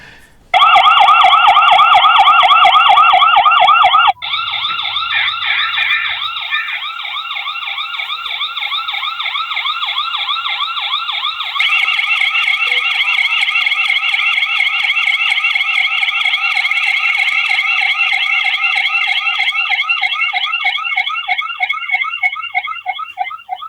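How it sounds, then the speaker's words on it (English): A loud electronic siren from a video doorbell alarm wails continuously, cycling through rapid warbling and yelping tones with abrupt pattern changes, no voices. "the siren will also sound through your phone"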